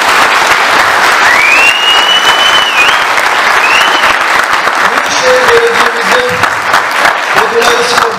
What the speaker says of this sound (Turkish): Ben tekrar oyuncu ekibine ve yönetmen ekibine bir kez daha sizlerden alkış almak istiyorum.